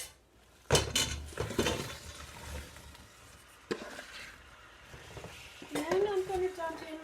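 Apples are dumped into a pot and stirred while cooking for an apple pie pizza, with sharp clatters of utensils against the pot, a gentle bubbling sizzle underneath, and a bit of speech in the background.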